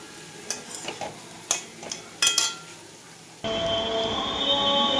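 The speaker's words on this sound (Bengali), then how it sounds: "এদিকে এটা ভাজা ভাজা হচ্ছে, প্রায় হয়ে এসছে ভাজাটা" A few light scraping stirs and clinks, then food starts frying in a pan with a steady, fairly quiet sizzle that continues to the end.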